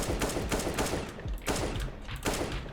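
Rapid bursts of gunfire in Counter-Strike: Global Offensive with an aimbot enabled, repeated automatic volleys close and loud with brief gaps between them, and no talk over the shots.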